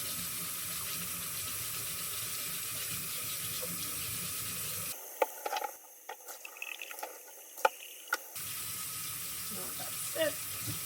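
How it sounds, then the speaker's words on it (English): Tap water runs into a sink while a Wagner Flexio paint sprayer gun is rinsed clean, a steady, fairly quiet close splashing that gives way to a few clicks and knocks of handling in the middle before the flow resumes. "So this you can just start letting water flow."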